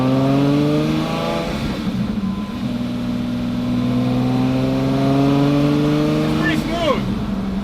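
A Lamborghini engine drones loud and close while driving, holding a steady throttle with small rises and dips in pitch over several seconds.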